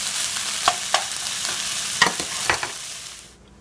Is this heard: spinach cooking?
yes